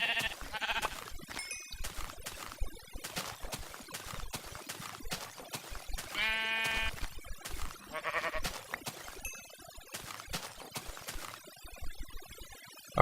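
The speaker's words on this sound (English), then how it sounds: "Take your sword, each sheep will die in 2 hits" Sheep in Minecraft bleat repeatedly in short bursts amid choppy game sound effects, including the thumps of sword hits, with no talking.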